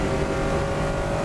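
A Lotus Elise race car at the Dubai 24-hour race accelerates flat out, its engine roaring loud and close in a continuous, sustained pull.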